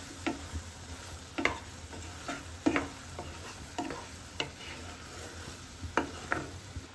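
Melted jaggery mixed with dry chili powder for a Baccaurea pickle is stirred in a pan, giving a soft steady sizzle broken by sharp scraping taps of the spoon at irregular intervals, close up and with no talk.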